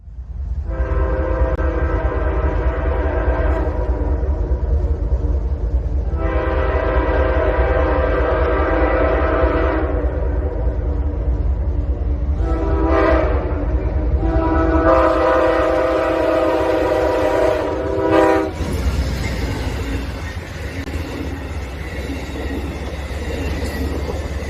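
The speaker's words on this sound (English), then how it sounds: "have a train passing under the bridge" A train passes beneath a bridge, its low rumble continuous throughout while the horn blows several long chord blasts, followed by heavier rolling and clanking wheel noise near the end.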